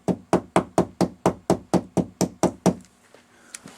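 A fly-tying hair stacker tapped sharply on a hard surface, about eleven evenly spaced, close, crisp knocks in quick rhythm, then stopping with a few faint small handling sounds.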